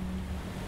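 Ocean waves as background ambience in a tabletop role-playing game, a steady rushing wash of surf that holds evenly throughout the brief moment.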